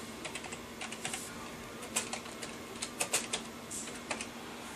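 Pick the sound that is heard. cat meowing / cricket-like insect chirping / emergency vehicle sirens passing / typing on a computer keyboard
typing on a computer keyboard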